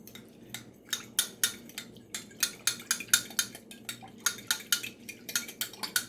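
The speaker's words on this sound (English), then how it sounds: "I'm going to mix this up." A spoon stirs beef stew ingredients in a pot, making a steady run of sharp metallic clinks and scrapes, close up and alone, with no talk.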